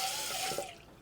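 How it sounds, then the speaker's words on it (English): Water running from a kitchen tap into a cooking pot, a steady close hiss and splash with a rising filling tone, brief and without talk. "I put water in my pot"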